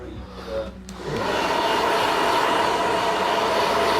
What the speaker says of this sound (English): I'm going to dry that off and we're going to have a look at the sides.